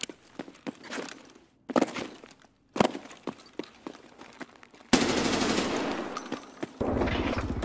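Gunfire in the Escape from Tarkov video game: several sharp single shots with footsteps between them, then a sustained loud burst of automatic fire near the end.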